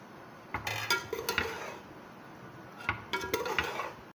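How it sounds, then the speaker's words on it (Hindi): A spoon scrapes and clinks against a cooking pot while mixing cooked beef pulao rice, in two short bursts of metallic stirring separated by a quiet pause, close by and without talking. "अब इसके अंदर हम चम्मच चला के इसको मिक्स"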